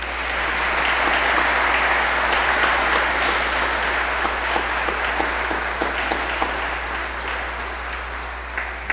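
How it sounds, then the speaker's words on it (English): A church congregation gives the Passionist priests a sustained round of applause, broad even clapping that swells then gradually eases, with a steady low hum underneath and no speech. "If we could recognize them with a round of applause"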